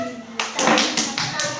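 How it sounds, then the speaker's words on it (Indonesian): Short burst of clapping for a group of students during a classroom teaching practice session, several broad pulses of hands starting after a quiet moment, fairly close and moderately loud. "Nah, tepuk tangan untuk kelompok 3"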